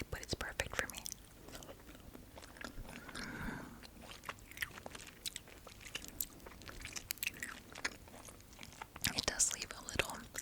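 Spicy Thai dried squid snack is chewed close to the mic, with wet, crunchy bites and mouth sounds that come and go under soft whispering.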